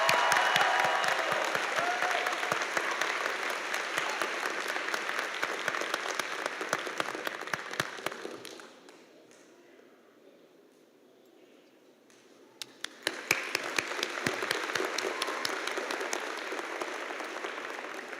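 A graduation audience applauds the valedictorian, a broad crowd clapping that fades to near quiet midway, then resumes with scattered claps swelling back to full applause.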